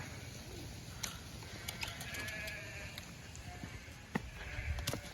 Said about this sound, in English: These sheep they might run me over here in a second.